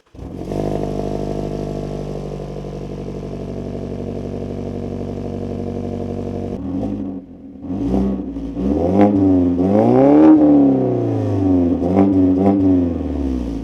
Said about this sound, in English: So this is how the car sounds like without any baffle.